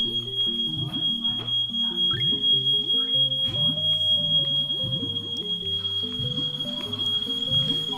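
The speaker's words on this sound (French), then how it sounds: "cette alarme sonne parce que ma mère fait cuire de la bouffe" A faulty smoke alarm, set off by cooking, sounds a steady, piercing high-pitched tone continuously while other sounds shift and play underneath it.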